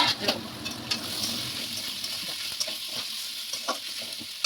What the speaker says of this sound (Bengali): পেঁয়াজটা একটু হালকা লাল লাল করে ভেজে নিই।